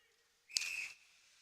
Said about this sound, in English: They waited a long time to blow that whistle